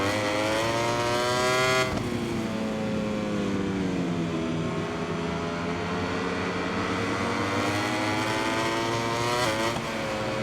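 A Ducati MotoGP bike screams down the straight in MotoGP 21, its engine revving high and steady with a rising pitch after a gear change, loud and continuous with no talk.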